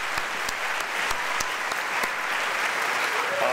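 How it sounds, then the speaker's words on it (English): An audience at a Max Planck Florida Institute evening event applauds steadily for the Brain Trust, a dense even wash of many hands clapping at one level throughout, with no voices rising above it. "Let's hear a round of applause for the Brain Trust."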